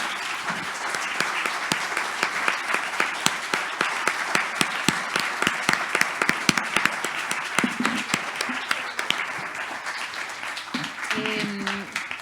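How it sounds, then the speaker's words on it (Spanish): Audience applause for author Carla Guelfenbein at a book presentation of her novel, a steady dense clapping sustained throughout, with a voice briefly speaking near the end. "le damos un aplauso a la Carla, ¿no?"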